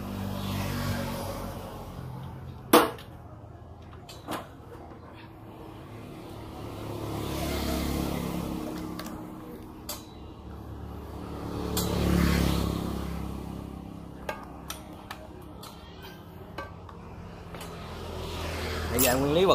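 A small engine on a pesticide sprayer pump is started and runs with a rising and falling rumble, broken by sharp clanks and knocks, while someone talks over it.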